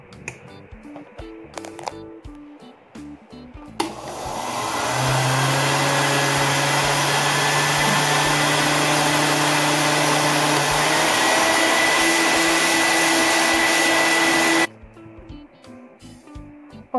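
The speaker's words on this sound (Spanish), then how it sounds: "estos tres ingredientes son los que vamos a licuar muy bien" A kitchen blender whirs loudly and continuously for about ten seconds, blending crepe batter made from pancake flour, milk and egg, starting abruptly and stopping sharply, with quieter handling noise before and after.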